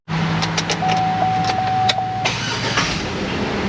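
A car engine is started in a repair shop just after a fix: a near, steady mechanical whir catches at once and holds as a continuous running drone with a thin whining tone over it.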